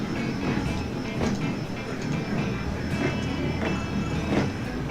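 A double-carriage tram in the Transport Fever game runs along its rails with a continuous rolling rumble and faint rhythmic clicks of the wheels, steady and fairly close throughout.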